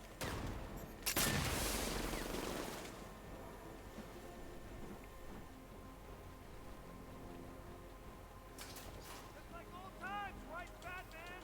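Gunfire in Batman: Arkham Knight: a loud burst of shots near the start, then a long stretch of softer game noise with voices talking over it.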